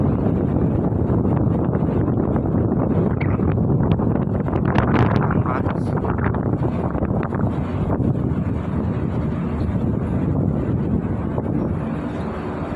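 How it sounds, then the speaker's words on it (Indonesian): Strong wind buffets the microphone outside on a ferry deck, a loud, continuous roaring gust noise with the ship's low rumble underneath and no talk. "anginnya kencang di luar ya, sampai tadi di dalam kapalnya miring-miring"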